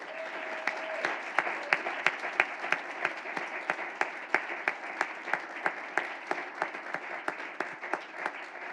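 Audience applause for winners of the Mission Possible competition at an awards event, a steady wash of many hands clapping throughout, moderately loud with individual claps popping out rhythmically.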